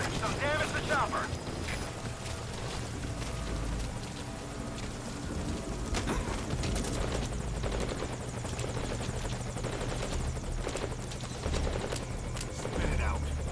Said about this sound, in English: I've taken fire. Some damage to chopper.